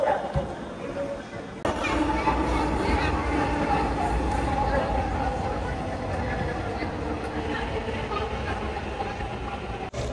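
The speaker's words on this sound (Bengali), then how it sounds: "কিছুক্ষণ দাঁড়িয়ে থাকার পর আমাদের ট্রেন চলে আসলো।" A metro rail train on the Uttara line arrives at the station with a steady, loud rumbling roar that sets in abruptly and continues, while people talk nearby.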